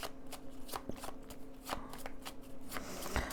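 Tarot cards are shuffled by hand in quick riffling bursts and soft flicks, close and moderately quiet with no talking.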